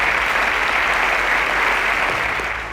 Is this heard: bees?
no